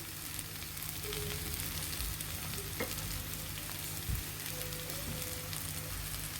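Chickpea curry sizzling steadily in a pan as coriander leaves are stirred in, a continuous close frying hiss with occasional light scrapes of the spoon.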